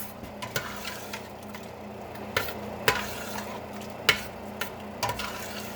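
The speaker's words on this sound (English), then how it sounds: "And we want to just continue to stir this." A spoon stirs a thick mixture in a pan over a low, steady background hum, with a handful of scattered scrapes and knocks against the metal, nearby and moderately loud.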